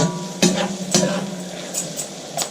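A spoon scrapes through spiced vegetables and stale masala bread cooking in a hot pan, giving a few distinct stirring strokes over a soft, steady sizzle. No one talks.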